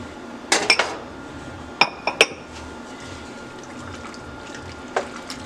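A spoon stirs Italian cheese into macaroni and cheese in a metal pan, making a few clustered clinks and scrapes against the side over a soft, steady background, with no talking.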